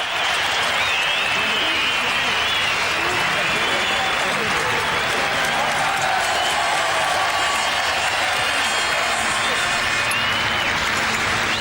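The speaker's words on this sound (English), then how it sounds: "just listen to the crowd" A large crowd at a Formula One race at Brands Hatch claps and cheers in a sustained, dense roar of applause, with a voice faintly audible over it.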